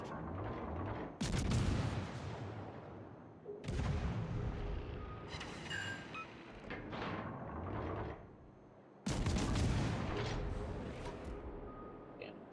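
Heavy naval gun salvos in World of Warships, several loud booming volleys a few seconds apart, each followed by a long rumbling decay, with quieter distant thuds between them.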